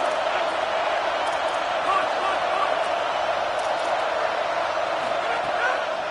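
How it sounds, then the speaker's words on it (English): A stadium crowd roars during a college football game, Utah against Oklahoma State, as a big third-down play approaches, a dense, steady wall of cheering with occasional whoops, loud and sustained throughout. "The crowd elevating its energy, willing this defense to get a stop on this big 3rd down"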